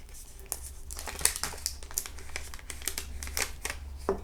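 A label peeled off an ACAN Mallow Tree beer can from North Antwerp Brewery: close, crinkly tearing and crumpling in quick irregular bursts, fairly quiet, with no talk.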